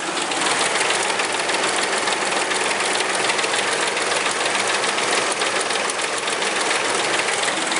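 A Ford Explorer 4.6 V8 with a worn timing chain idles steadily with a dense mechanical clatter and rapid ticking throughout, loud and close, with no voices.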